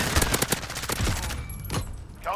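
Bursts of M13 rifle gunfire in the video game Call of Duty Modern Warfare, a dense rapid volley of loud shots over the first half, then scattered isolated shots against game ambience.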